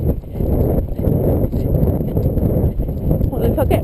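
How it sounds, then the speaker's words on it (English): A horse canters with heavy, lumbering hoofbeats thudding in a steady three-beat rhythm, close and loud, alongside wind and movement noise. "Quite a lumbering canter, but it's all right."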